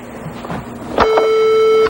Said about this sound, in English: I'm afraid your buzzer was just too late